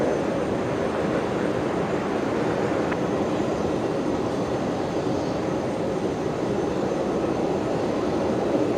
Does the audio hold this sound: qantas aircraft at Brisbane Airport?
yes